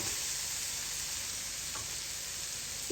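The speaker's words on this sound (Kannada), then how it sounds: "ಸ್ವಲ್ಪ ಸಾಫ್ಟಾಗಿ ಆಗೋವರೆಗೂ ಒಂದು ಎರಡು ನಿಮಿಷ ಫ್ರೈ ಮಾಡಿದ್ರೆ ಸಾಕು" Vegetables frying in a pan with a pinch of turmeric, a steady close hiss of sizzling oil with an occasional faint stir.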